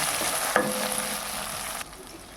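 Tamarind water is poured into eggplant frying in a pan for vangibath, bringing a soft splash and a stir followed by a steady sizzle that drops away near the end.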